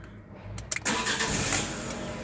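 A Fiat 500 engine cranks and catches, with a few sharp starter bursts before settling into a steady, close running idle.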